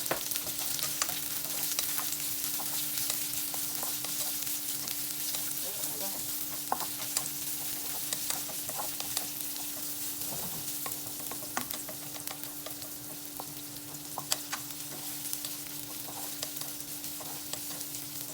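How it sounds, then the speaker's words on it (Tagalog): Onions sautéing in a pan give a steady, close sizzle with frequent scrapes and clicks of a stirring utensil, continuous for nearly twenty seconds over a low hum. "Una, maggisa tayo ng sibuyas."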